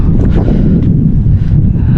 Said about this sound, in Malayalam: പറയുന്നത് എത്രത്തോളം കേൾക്കുന്നുണ്ടെന്ന് പോലും അറിയില്ല അത്രയ്ക്ക് കാറ്റാണ് ഇവിടെ